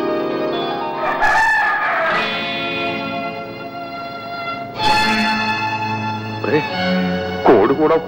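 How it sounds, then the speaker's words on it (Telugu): A rooster crows several times at daybreak in a Telugu film scene, its calls rising loudly over a sustained background score. "కోడి కూడా కూసేసింది."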